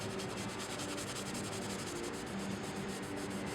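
Soft, steady rubbing as oyster-colored filler is worked by hand into tooling marks on a damaged floor during a repair, a continuous faint scraping texture with no speech.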